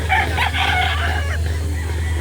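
At a Lipa City, Batangas market where chickens are sold, a rooster crows nearby, a loud broken cock-a-doodle-doo lasting about a second over a steady low electrical hum and faint background murmur.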